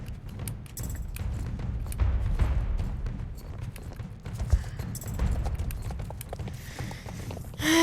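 Horse hooves trotting in the video game Sudhoven, a steady rapid clip-clop rhythm at moderate loudness running throughout, with faint background game sounds and no speech.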